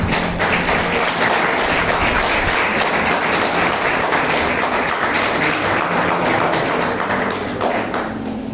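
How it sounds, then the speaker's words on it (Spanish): A church congregation applauds together, a dense, steady wash of clapping that fills the room at moderate loudness and runs without pause before easing slightly near the end. "Dale un aplauso al Señor."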